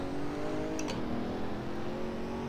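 A Pagani Huayra engine in the Assetto Corsa racing simulator drones steadily with a whining, shifting pitch, held at high revs, with transmission whine under braking and a brief click partway through.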